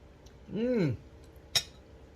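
A spoon clinks once sharply against a dish of pasta fagioli during eating, a small near ring following a brief murmured vocal sound at close range.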